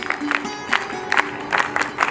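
A short burst of clapping from a gathered group, steady and moderately loud, with a faint voice murmuring beneath.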